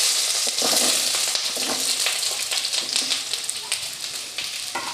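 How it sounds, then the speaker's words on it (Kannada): Onions added to a hot pan and frying for an egg masala gravy, giving a steady, close crackling sizzle that runs throughout with small bursts as they hit the oil. "ಈಗ ಈರುಳ್ಳಿ ಸೇರಿಸ್ಕೊಳ್ತಾ ಇದ್ದೀನಿ."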